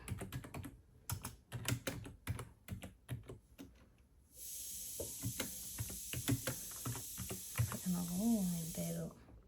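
Code gets typed on a computer keyboard in quick, uneven bursts of close clicks, then a steady hiss rises behind the tapping and a voice speaks briefly near the end.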